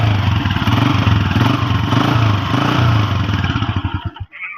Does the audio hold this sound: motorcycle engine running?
yes